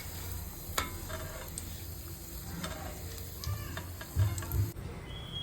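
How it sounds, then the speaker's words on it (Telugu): Curry leaves sizzle in hot oil inside a strainer, a steady close crackle with a few sharper pops and stirring clinks near the end. "దాన్ని ఇలా ఫ్రై చేసుకుందాం ఒకసారి. ఇలా ఒక స్ట్రైనర్లో పెట్టుకుని ఫ్రై చేసుకుంటే బాగా ఫ్రై అవుతుంది."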